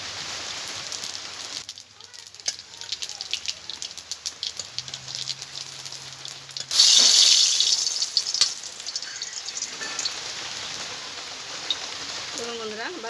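Cumin seeds go into hot mustard oil in a kadai and crackle and sizzle, with a sudden louder hiss partway through that then settles into a steady fizzing.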